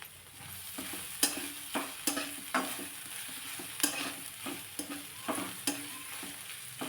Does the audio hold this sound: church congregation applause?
no